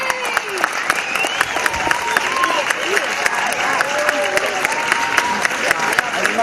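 A crowd applauds steadily at a dressage national championship, a dense, continuous wash of clapping with occasional whistles and cheers while a commentator talks over it.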